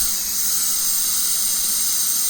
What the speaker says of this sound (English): Now I'm just turning it on, letting you see the different speeds and how it sounds.